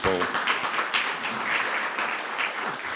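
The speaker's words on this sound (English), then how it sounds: "I'd like to ask for a round of applause" Dense applause from a crowd, steady and sustained throughout, with a brief voice at the very start.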